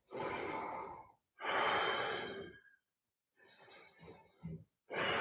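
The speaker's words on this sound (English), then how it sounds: "Let's do 3 deep breaths." Slow, deep breaths during a yoga session: long audible inhales and exhales alternate, with airy, close, soft breathing, a pause between, then a shorter, broken breath toward the end.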